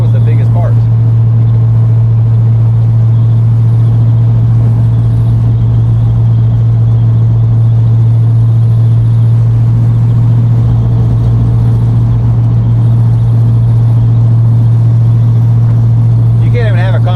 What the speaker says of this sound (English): You can't even have a conversation in this car because of the drone.